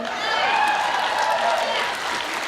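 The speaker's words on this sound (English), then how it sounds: "We just clapped for bank regulation." A room full of people at a university town hall on bank regulation breaks into sustained applause, a dense, even wash of clapping heard from within the crowd.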